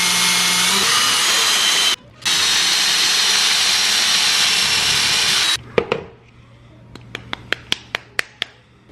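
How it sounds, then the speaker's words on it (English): Power drill boring a hole in a painted block: a loud steady whine with a brief pause, then it stops and a series of sharp clicks and taps follows in the quiet. "I'm just gonna drill a hole."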